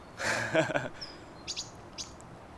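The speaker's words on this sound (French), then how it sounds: "Parfois écouter des oiseaux." Several short, high bird chirps sound near the end, coming after a brief stretch of talking at the start.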